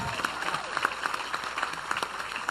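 An audience applauds Edjean Semeleer at an Aruban government recognition ceremony, a steady patter of claps with a few sharper hand strikes standing out, moderately distant, with faint crowd murmur.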